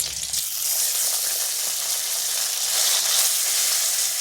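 Katla fish pieces hitting hot oil with nigella seeds and slit green chillies, a loud continuous bright sizzle and hiss of frying that stays steady throughout, close by with no talk.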